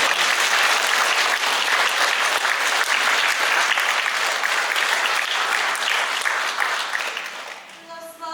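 Dense, sustained audience applause for music school performers at a reader meeting in the Alytus synagogue, loud and steady before tapering off at the end.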